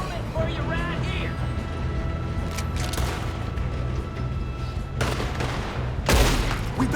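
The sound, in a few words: gunfire in a shootout, from a video game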